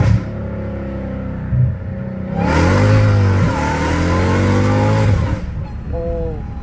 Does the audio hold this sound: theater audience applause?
no